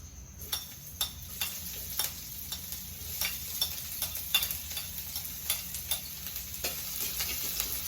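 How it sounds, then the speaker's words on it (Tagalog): Onions dropped into hot cooking oil for a sauté, giving a steady close sizzle and crackle with repeated clicks of stirring throughout, no voices. "Mainit na yung ating mantika. Lagyan na natin to guys."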